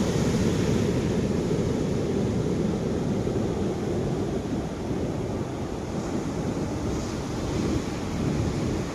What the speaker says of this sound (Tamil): பீச்சில் அந்த வேவ் சவுண்ட் கேட்குறது ஒரு தெரப்பி எக்ஸ்பீரியன்ஸ் இல்லை